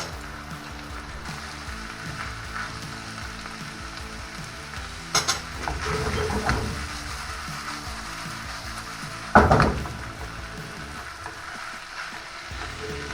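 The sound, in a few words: buckwheat with ham frying and being stirred in a pan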